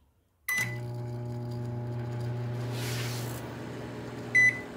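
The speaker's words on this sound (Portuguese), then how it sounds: "Vamos ligar o micro-ondas novamente." An Electrolux MEF41 microwave oven with a dangerous fault hums steadily after a click starts it, with a low electrical drone running throughout and a short beep near the end.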